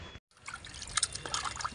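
Cut fish being rinsed clean in water by hand, with close, soft splashing, dripping and trickling that runs steadily after a brief pause at the start.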